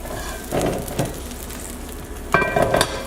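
About two teaspoons of oil sizzle and crackle in a hot frying pan while chicken paillard cooks, a steady hiss with louder flare-ups as the oil is spread around.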